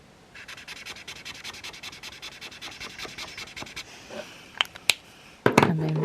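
Chisel-tip alcohol marker dragged across paper while colouring, a steady run of quick scratchy strokes, close and fairly quiet, followed by a few sharper taps and clicks near the end.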